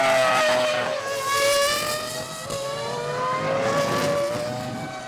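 A Ferrari F2002 Formula 1 car driving at speed, its high-pitched engine wailing and shifting as it rises and falls, loud and alone.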